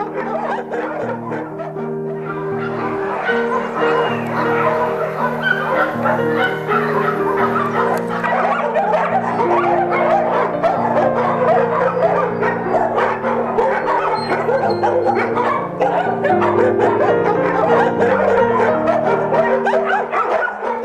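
A small female dog barks and yips repeatedly in quick bursts, with light laughter and chuckling nearby over a constant background hum.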